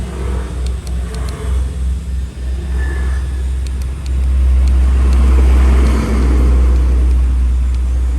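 The motor of an MN99s RC truck runs on throttle, first pulsing in short bursts and then holding a steady, loud droning hum with slight swells.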